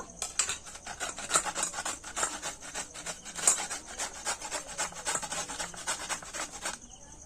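Bottle gourd is rubbed against a hand grater in quick, steady rasping strokes, close and continuous for several seconds before stopping abruptly.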